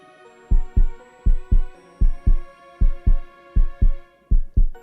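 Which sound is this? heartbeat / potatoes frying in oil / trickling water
heartbeat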